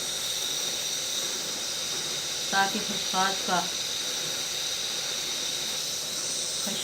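A pot of water steams and bubbles with poppy seeds for khashkhash tea, giving a steady, close hiss throughout, with a brief spoken phrase in the middle.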